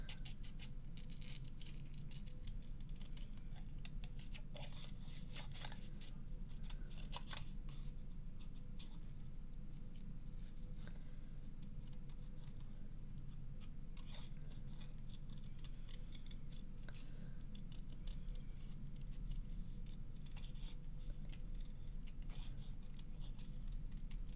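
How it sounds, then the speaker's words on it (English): Close, continuous scissor snips come from fussy cutting around a paper image for an Easter peekaboo card, with quick irregular clicks and rustles of paper running steadily throughout at low volume. "A little bit fussy cutting."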